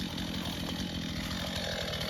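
Chainsaws cut firewood outdoors, a loud, steady engine drone and rasping bite running without a break, close by and with no voices over it.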